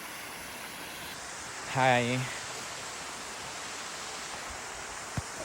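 A waterfall in Szklarska Poręba rushes as a steady, broad wash of noise throughout, with a brief spoken greeting and a small knock near the end.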